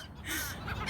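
A bird at a New Orleans bird park gives a single harsh, raspy caw-like call up close while being fed. The call is brief and fairly loud over quiet surroundings.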